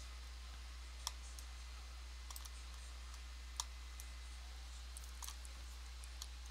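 Computer mouse clicks, sharp isolated taps spaced a second or two apart, faint over a steady low electrical hum in a quiet room.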